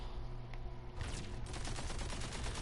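An automatic gun in Tiny Tina's Wonderlands fires a rapid, steady string of close, crisp shots, starting after a brief quieter moment and hammering on to the end without talk.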